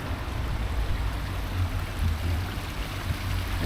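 A water stream running through the town of Valkenburg makes a steady, gurgling rush that stays level throughout.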